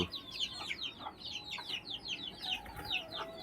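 Several chickens on a rooftop cluck repeatedly in quick, overlapping calls, moderately distant and fairly soft over faint background noise.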